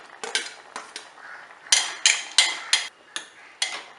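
Raw mango pieces drop into a cooking pot of tamarind curry, giving a series of sharp, bright clinks and clatters, some single and some in quick pairs, close and fairly loud with no talking.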